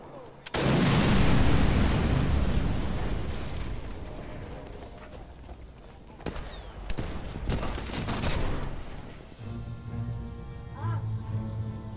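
Gunfire and explosions in the sniper video game Sniper Elite 4: a sudden loud blast opens into a sustained roar of firing, followed by several sharper shots and bursts that fade into lighter rumbling.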